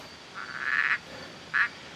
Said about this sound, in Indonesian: Kodok ngapain ini guys?